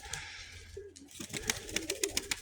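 Mykolaiv breed pigeons coo in low, throaty bursts close by, with scattered sharp clicks and rustles in a loft or yard, and no talking.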